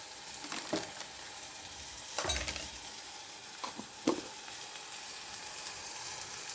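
Curry powder stirred into a sizzling pan, a soft steady fry hiss broken by a few scraping stirs of a utensil against the pan, fairly quiet and with no talking.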